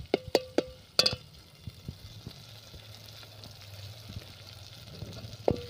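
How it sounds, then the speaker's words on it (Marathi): Finely ground spice paste cooking in hot oil for a jackfruit vegetable dish gives a steady, close sizzle and crackle, opening with a few sharp pops and clinks, with no talking. "खलामध्ये हा पेस्ट चांगला बारीक केला, तेलामध्ये शिजत आहे"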